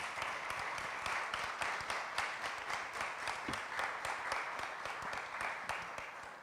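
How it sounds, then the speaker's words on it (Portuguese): Audience applause at a talk event, a steady wash of many hands clapping throughout, moderately loud and even, with no one speaking over it. "Uma salva de palmas para Abigail Campos Leal, por favor."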